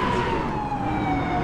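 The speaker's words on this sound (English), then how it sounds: "the siren, definitely, that was on point. I found it on GTA4mods.com. I think it's a Mach 7. That's what the NYPD used to use." A Mach 7 NYPD-style police siren mod in Grand Theft Auto IV wails steadily and loudly, its tone sliding slowly downward over a constant rumble of road and engine noise, with no talking.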